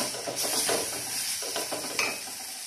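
Crushed garlic sautéing in a pan for tomato rasam, a continuous bright sizzle with a few soft stirring scrapes, close and steady with no talk.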